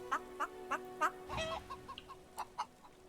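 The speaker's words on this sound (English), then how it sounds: "So, we have chickens." Chickens cluck in a fantasy role-playing video game, Divinity: Original Sin II, with a regular series of short clucks followed by a louder squawk and a few scattered clucks over a faint background hum.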